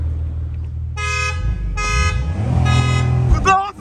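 A car horn gives three sustained honks as the start signal for a street race, loud over a steady idling engine rumble, with a brief burst of engine or tire noise at the end.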